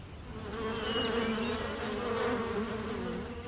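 Honeybees buzz near a beehive in a continuous close, wavering hum with several overlapping wingbeat tones.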